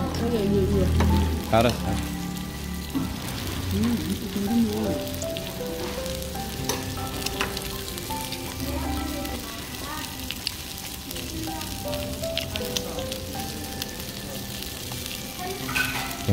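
Beef tripe and other Korean hanwoo offal sizzle steadily on a grill at a tripe restaurant, a continuous close crackle with stirring clinks, while people chat briefly over it.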